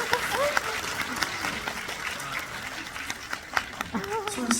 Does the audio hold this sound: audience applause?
yes